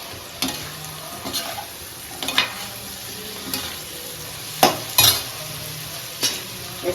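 Capsicum stir-fried in a pan sizzles steadily while a spatula scrapes and clanks against the metal in irregular strokes, close and moderately loud, with no speech.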